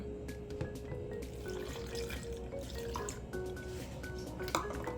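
Almond milk pours steadily into a blender jar with frozen strawberries and apple for a strawberry smoothie, a soft continuous liquid trickle with light drips, close and fairly quiet, no voices.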